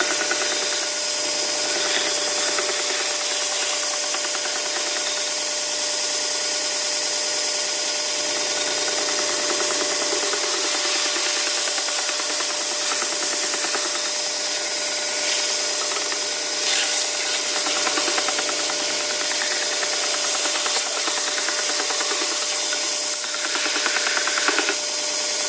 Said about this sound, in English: I'll do that on the sander here